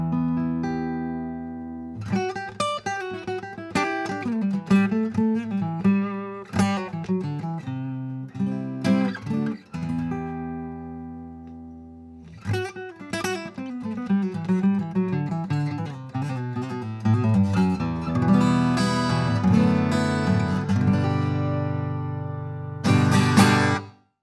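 A Taylor Koa 722 small-body acoustic guitar plays a lively, percussive passage of strummed chords and picked notes, close and loud with strong dynamic swells and a brief pause midway.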